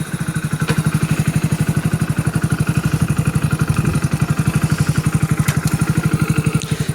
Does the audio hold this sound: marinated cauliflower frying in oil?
no